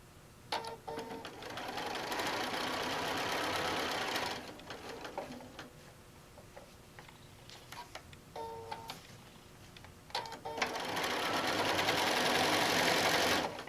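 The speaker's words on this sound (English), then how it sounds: "So again, we're just going to stitch it down." A sewing machine stitches down bag fabric in bursts, whirring steadily for a few seconds, pausing with soft handling clicks, then running again in a longer close, moderately loud run.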